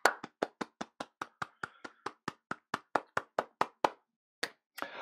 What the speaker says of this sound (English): everybody at home will be joining me to give you a huge around the world round of applause